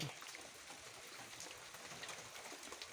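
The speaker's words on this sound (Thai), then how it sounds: "ชมบรรยากาศฝนตกแล้วครับ" Soft, steady rain patters quietly and continuously, a faint even hiss with no other sounds.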